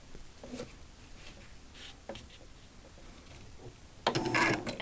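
An embroidery machine sews the tack-down stitch on appliqué fabric. Quiet, intermittent mechanical whirring and ticking builds into a louder, busier stitching burst near the end.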